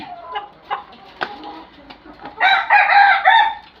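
A Laiza rooster, a newly matured parent bird on a poultry farm, gives a few short clucks and then one loud, close crow lasting about a second and a half, with no talking.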